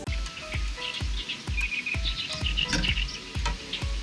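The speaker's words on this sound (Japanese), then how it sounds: "鳥のさえずりが凄まじく聞こえますが" Many birds chirp and twitter around a small pond on a hilltop, bright overlapping calls over a steady rhythmic thumping in the background, with no one talking.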